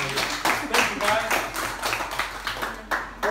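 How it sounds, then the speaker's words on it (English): Audience applause with scattered claps in uneven bursts, close and moderately loud, while a voice talks over it. "big round of applause for this guy"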